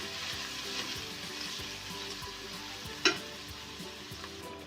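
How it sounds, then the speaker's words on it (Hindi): Masala with half a tablespoon of crushed chilli frying and being stirred in a pan for bottle gourd curry, a steady close sizzle with repeated low scraping stir strokes and one sharp clack partway through. "अब हम इसको मिक्स करेंगे, इसको भूनना है अच्छी तरह।"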